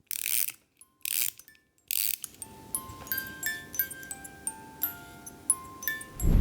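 Plastic and wooden parts of a ROKR Magic Cello DIY kit are screwed together up close: a few short scraping bursts, then a run of small ratcheting clicks and light ticks.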